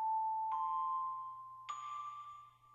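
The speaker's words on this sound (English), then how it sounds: "bring in the bell sound, have it muffled at first, and then have the EQ lift." A quiet, sustained bell tone in a house track starts muffled, then brightens in two steps as the EQ opens up, ringing alone over a low steady hum.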